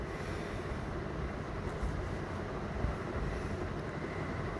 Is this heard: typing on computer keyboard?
no